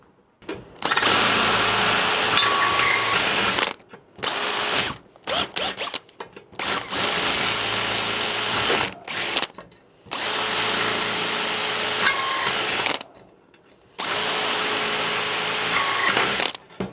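A power drill bores into a thin alloy engine sump in several loud, close bursts of steady whine, separated by brief pauses.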